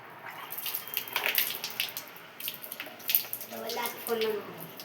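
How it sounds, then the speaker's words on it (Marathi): Water pours over sticky hands, splashing and trickling in uneven bursts, spattering close by, with some faint dripping toward the end. "हातावर पाणी टाक जरा"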